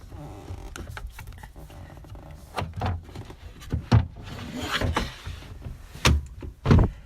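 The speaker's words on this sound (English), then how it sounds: "companionway door slides up" A sliding companionway door on a Jeanneau Sun Odyssey 44 DS sailboat gives a series of soft knocks, thumps and sliding rattles, close by and irregular, with no speech.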